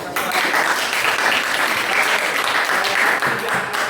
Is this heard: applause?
yes